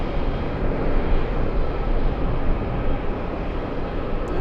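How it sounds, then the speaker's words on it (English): A Japan Airlines Airbus A350-1000 jet takes off from JFK Airport, producing a steady, broad roar of engine noise that stays loud and even throughout, with wind buffeting in the background. "This is Japan Airlines and their A350-1000 flying to Haneda"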